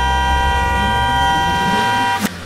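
A vehicle horn blares loud and continuous for about two seconds, a steady harmonic honk heard close up, ending with a sharp click.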